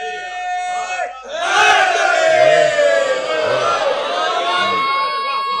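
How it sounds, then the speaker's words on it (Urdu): A crowd at a Shia majlis mourning gathering chants slogans in unison, a loud, rousing roar of many voices rising after a quieter opening and holding for several seconds. "بعض لوگ میرے دوستوں کے نعرے لگانے پہ تھوڑا سا دائیں بائیں بھی دیکھ رہے ہیں"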